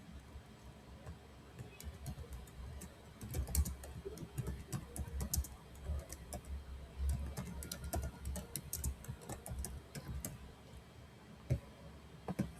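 Computer keyboard typing while filling in an online sign-up form, irregular bursts of close, light key clicks with short pauses, no speech.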